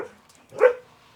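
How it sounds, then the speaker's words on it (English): A single short dog bark, close and fairly loud, following a brief faint whine, with quiet surroundings. "I apologize about the dog."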